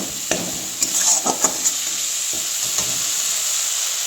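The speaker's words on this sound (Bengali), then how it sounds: "এবার নেড়ে চেড়ে ভালোভাবে কষিয়ে নিতে হবে" Masala for prawn malai curry frying and being stirred in a pan: a steady loud sizzle throughout, with scraping clicks and taps from the spoon clustered near the start and fading out.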